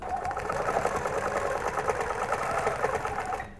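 A sewing machine runs steadily nearby while stitching quilt pieces, its rapid, even mechanical whir holding for several seconds before easing off at the end.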